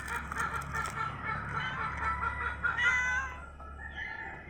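A black cat meows a few times at close range, thin rising cries over faint low background hum.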